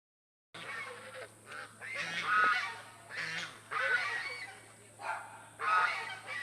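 Geese honking in repeated bursts, loud and fairly close, with brief pauses between the noisy calls.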